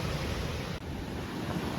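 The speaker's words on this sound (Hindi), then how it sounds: "ये पार्वती नदी है" The Parvati River rushes after a flash flood, a broad, constant roar of churning water close by, with wind buffeting across it and no voices.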